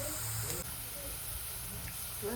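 Slices of bitter gourd deep frying in oil give a faint, steady hiss under a low constant hum, with a brief shift partway through and no clear talk.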